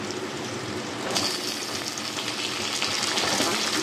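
Crushed garlic cloves and a whole tomato dropped into a hot pan for a Bengali prawn curry, setting off a loud, close, continuous sizzle that swells slightly as it goes on.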